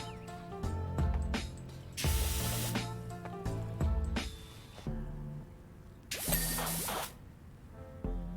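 Rust cleaner sprayed onto a shelf in a video game: several short hissing spray bursts over a musical game soundtrack, with one long loud burst near the end.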